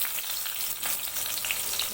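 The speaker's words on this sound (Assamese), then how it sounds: "এতিয়া মই চব্জিটো বনাই দিম আৰু মাছ ভাজা হৈ গৈছে আৰু মাছৰ তেলটোতে দি দিম।" Vegetables sizzle and fry in leftover fish oil in a pan, a steady close hiss with bright crackling spatter and occasional louder pops, heard alone without talk.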